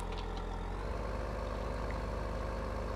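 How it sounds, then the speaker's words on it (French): A tractor engine in the video game Farming Simulator 15 idles in a low, steady drone with a faint rhythmic throb, quiet and continuous throughout. "je peux pas essayer de rouler avec le tracteur"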